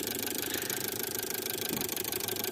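A Kia Picanto engine being serviced for an ECU fault runs at a steady idle, a close, even mechanical hum with a light rapid rattle and no voices.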